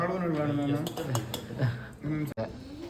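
Dishes and cutlery clink close by as rice is served at home, short metallic taps and scrapes running under continuous talking.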